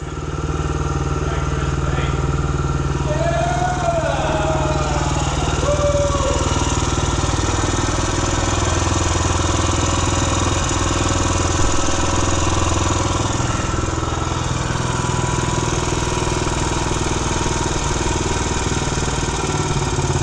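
A 1959 MV Agusta 150RS Rapido Sport motorcycle engine idles steadily nearby, a continuous low chugging throb with a few faint background noises.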